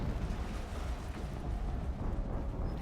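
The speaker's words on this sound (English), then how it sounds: "An explosion." A loud, sustained low rumbling roar with a dense wash of noise, an explosion in the video game Horizon Zero Dawn booming continuously for a few seconds.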